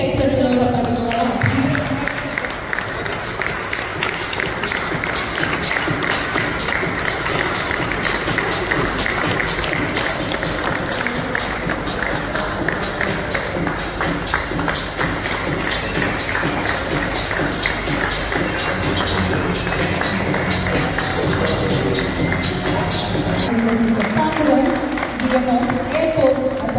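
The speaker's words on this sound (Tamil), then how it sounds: "இது ஒரு வாட்டி பெரிய கைத்தட்டலோட பண்ணலாம்." A crowd at a Tata Punch EV launch event in a showroom claps steadily and loudly for most of the stretch, with music playing and voices mixed in.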